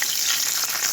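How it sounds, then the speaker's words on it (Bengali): Papad fries in hot oil with a loud, dense, close crackling sizzle that holds steady throughout, with no voices. "এবার একটু পাঁপড় ভাজা করে নিচ্ছি"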